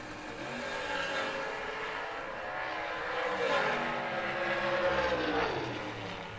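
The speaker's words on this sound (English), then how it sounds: "That heads up drag race with Lane Como." Heads-up drag race cars, one of them running a 462 engine, roar down the strip at a distance, a steady broad engine drone that swells and fades slightly with no talk over it.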